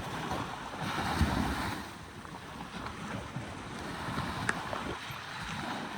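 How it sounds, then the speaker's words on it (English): Ocean waves churn in a steady, rough wash mixed with wind buffeting, with one or two brief louder surges and no voices. "what makes the water rise up into a wave?"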